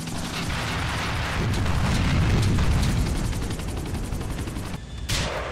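RPG rocket blasts in GTA IV, heavy booming explosions with rumbling debris and crackling bursts, loud and continuous, ending with a sharp hit near the close.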